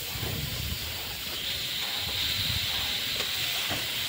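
Chicken meat dropped into a hot pan of spiced oil, giving a steady, loud broadband sizzle and hiss that holds throughout with no talk over it.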